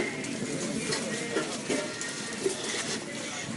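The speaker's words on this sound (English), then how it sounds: "You got the birds here eating whatever they can eat." Soft pigeon-like cooing sounds come through a busy outdoor din in a Nairobi slum, with people talking nearby.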